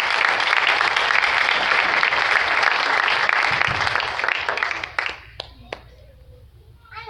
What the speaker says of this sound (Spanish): Fuertes palmas a nuestro hermano de la visita de Miami.